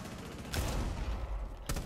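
Gunfire in Rainbow Six Siege, two short bursts of shots over a constant game background, fairly loud with no talking.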